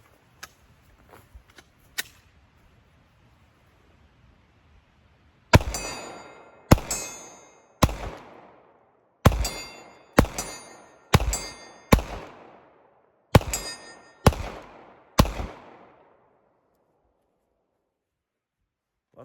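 A Glock 21 pistol fires ten rounds at steel targets 40 yards out, sharp loud shots spaced about a second apart, some answered by faint metallic pings, with quiet gaps and a few softer knocks before the string.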